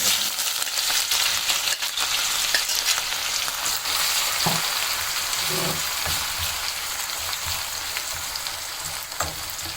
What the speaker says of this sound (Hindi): कुकिंग ऑयल यहाँ पे गरम हो चुका है, इसमें आप प्याज शामिल कर देंगे